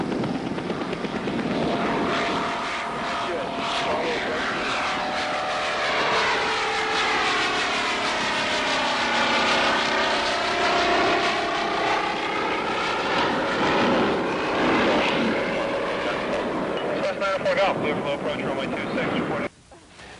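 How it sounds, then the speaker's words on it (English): A propeller aircraft powered by a Revolver Cam (Dynacam) engine roars steadily as it takes off, engine pitch sweeping down as it passes, loud and sustained before cutting off abruptly. "Notice the quick takeoff."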